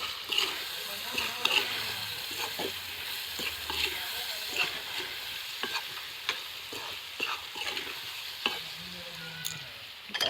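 Valor bean pods frying in a home kitchen pan, a steady faint sizzle with scattered stirring clicks and scrapes running throughout, fairly distant, with occasional voices in the background.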